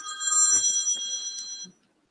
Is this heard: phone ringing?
yes